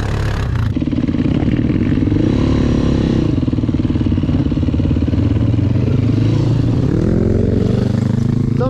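A Honda TM 125 motorcycle engine that stalls at low revs runs loud and close, its throttle held and blipped so the rough, clattering exhaust note rises and falls continuously.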